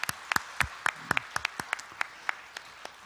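Church congregation clapping in a brief, sparse burst, a handful of distinct sharp claps spaced unevenly at moderate distance, rather quiet overall.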